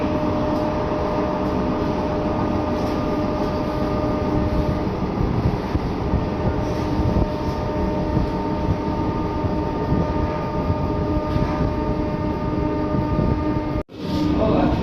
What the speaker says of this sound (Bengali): ট্রেন এই মুহূর্তে পার করছে হালিশহর স্টেশন।